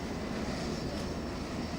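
An aircraft departing Heathrow Airport roars as a loud, steady, broadband engine rumble with a faint high whine running through it, continuous and close.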